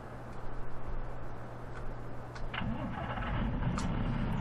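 A tractor engine turning over and catching in Farming Simulator 2013, a steady low mechanical drone that thickens and grows slightly louder as it starts up, heard alone.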